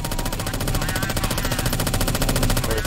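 Rapid automatic gunfire in Counter-Strike: Source on a zombie escape map, loud and continuous with dense rattling bursts throughout and no talk over it.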